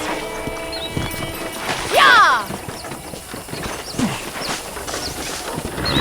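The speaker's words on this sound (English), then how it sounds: "let's see if you can still ride a horse" Horse hooves clip-clop through a ride in the Red Dead Redemption video game on a ranch, a steady rhythmic patter under game ambience, with a horse whinny and a voice shouting briefly near the start.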